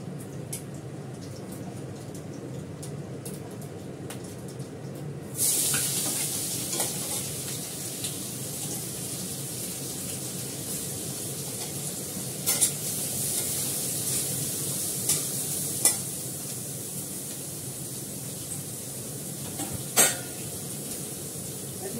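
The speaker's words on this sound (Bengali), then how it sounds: "এবার চাউমিনটা করবো, তার জন্য এগুলোকে ফ্রাই করে নেব।" Ingredients for chow mein fry in a hot wok, a quiet background hiss that jumps to a loud, bright sizzle after a few seconds and carries on steadily, with occasional clanks of stirring.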